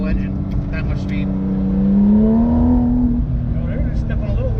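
Small-engined race car at a driving experience track in Bridgewater, New Jersey, whining past with a rising then falling engine pitch over several seconds, loud and steady, with occasional talk beneath it.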